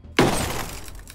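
A sudden loud crash of glass shattering after a shot in Ghost Recon Breakpoint, one sharp break followed by a brief tinkling decay of falling shards.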